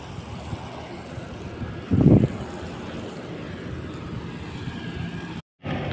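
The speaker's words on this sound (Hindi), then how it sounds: "बहुत ही ठंडी ठंडी हवा चल रही है" Cool evening wind blows outdoors at a plot being watered, a steady broadband rush buffeting the microphone, with a brief louder gust-like thump partway through and a sudden dropout near the end.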